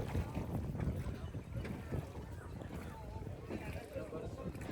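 A boat moving across the lake at Ranganathittu bird sanctuary near Srirangapatna, with steady water wash and wind buffeting the microphone throughout. A voice talks faintly in the background.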